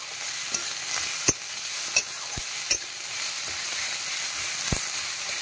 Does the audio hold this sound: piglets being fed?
no